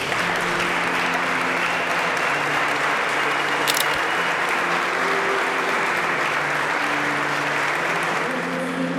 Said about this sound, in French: Je vous invite à vous lever et à les applaudir